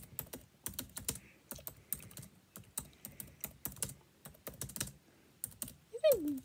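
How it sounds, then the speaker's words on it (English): Rapid, close bursts of keystrokes clatter on a computer keyboard during a Nitro Type typing race, coming in uneven rhythmic runs with short pauses, ending with a brief higher-pitched sound. "I'm typing like kinda accurate."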